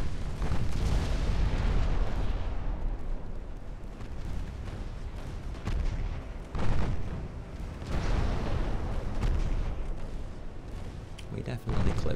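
A torpedo strikes the rear section of a ship in the naval strategy game Ultimate Admiral Dreadnoughts, heard as heavy booming explosions and rumbling blasts that swell and fade repeatedly over continuous low battle noise, with someone talking over it.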